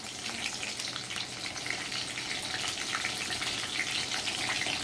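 A tempering of dried red and green chillies fries in hot oil with a loud, continuous crackling sizzle and dense bursts of spattering from start to finish. No voices are heard.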